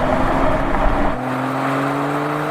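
A BMW 3 Series Touring diesel accelerating hard in a drag race, a loud, close engine roar, with the pitch shifting as it changes gear about halfway through, and no talking.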